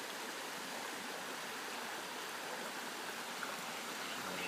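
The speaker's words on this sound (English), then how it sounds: "There's the creek." Steady broadband rush of a creek flowing near a large culvert at Porteau Cove, continuous and fairly close, with no voices.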